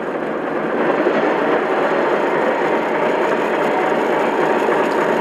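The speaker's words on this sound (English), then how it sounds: "the noise of the fans will increase a little as well" Lionel Vision Line Baldwin Centipede model locomotive running with its fans spinning up as the RPMs rise, a steady broadband whir and mechanical hum, close and continuous.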